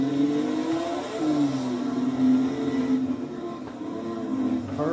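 A Maserati 250F slot car whirs around a track, its small electric motor whining in rising and falling pitches as it accelerates and slows through turns, fairly close and steady.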